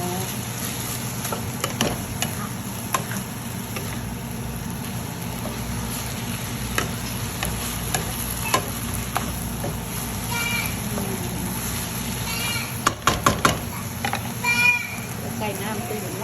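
Chicken and clear glass noodles stir-fry in a pan with a steady, close sizzle and occasional scraping and clattering of the utensil, while people talk over the cooking.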